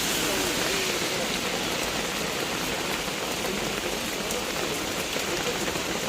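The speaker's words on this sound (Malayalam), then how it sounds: "ഭയങ്കര മഴ." Heavy rain pouring in a Kerala forest, a dense continuous hiss of drops that stays loud and steady throughout, with no clear voices over it.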